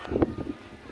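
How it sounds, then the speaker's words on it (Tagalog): Gusty wind on a mountaintop in San Vicente, Pamplona, Camarines buffets the microphone in low rumbling bursts, strongest near the start, then settling into a softer steady rush. "lakas na ng hangin dito."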